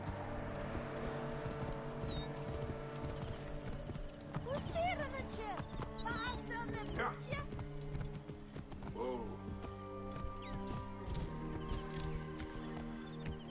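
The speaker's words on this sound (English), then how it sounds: "I got a horse, and he comes to me" In the Assassin's Creed Origins video game, a horse's hooves clip-clop in a steady trotting rhythm while the animal whinnies, all quiet and overlaid by someone talking and game music.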